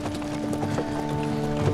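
Horse hooves clip-clopping in a steady trot in Kingdom Come Deliverance 2, close and clear over a low ambient background.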